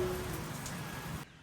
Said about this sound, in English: The only problem we're having is it just will not stop raining.